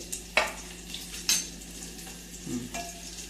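Green chillies tossed into a pan and stirred for kulith pithi, a sizzling fry punctuated by several sharp scraping stirs and a soft metallic clink, close and fairly loud.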